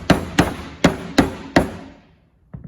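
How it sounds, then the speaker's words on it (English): Five sharp hammer blows strike wood in an uneven rhythm during assembly of a desk and chair, followed by a short pause and one softer tap. "We're hammering there."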